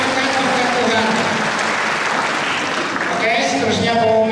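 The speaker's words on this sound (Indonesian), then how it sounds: "Berikan tepukan yang paling besar" Church congregation at an Easter service in Long Bemang breaks into loud, sustained applause, a thick, continuous wave of clapping that swells slightly toward the end.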